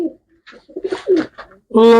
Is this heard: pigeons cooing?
yes